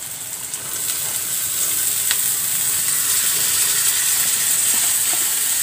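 Bottle gourd peel frying in a pan with small cut potatoes for a prawn dish, a steady close sizzle and hiss that swells after the first second and keeps going with faint stirring clinks.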